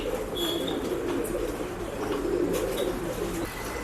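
Pigeons cooing steadily at a pet shop in Bangalore, a dense, continuous murmur of low coos from many birds close by, with occasional brief chirps above.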